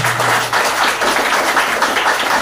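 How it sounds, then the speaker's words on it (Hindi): A church congregation clapping their hands in thanks to God, dense continuous applause of many hands at a steady level, close and loud with no break. "तालियां बजाकर खुदा का धन्यवाद"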